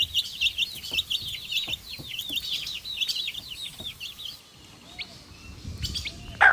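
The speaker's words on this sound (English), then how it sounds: "chicks" Farm chicks cheeping in a rapid, high, continuous chorus that thins out toward the end, with a few low clucks from other fowl and no talk.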